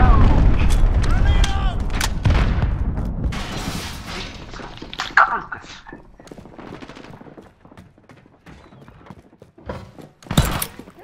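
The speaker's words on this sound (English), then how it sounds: "Allied cruise missile launched." Cruise missile strike explosions in Call of Duty Modern Warfare: a few heavy booming blasts crowd the opening seconds, settle into a softer rumbling tail, then one last sharp blast lands near the end.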